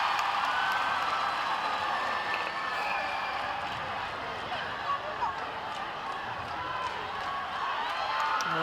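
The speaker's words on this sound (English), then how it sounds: "The crowd go wild." Crowd at a netball match between Cook Islands and Botswana, a steady wash of cheering and clapping held at an even level throughout, with a commentator talking over it.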